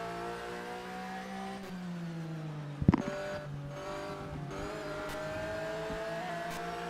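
A Porsche race car engine on the Valencia circuit drones steadily with shifting pitch as cars run close together, with a sharp brief bang near the middle and ongoing engine noise throughout.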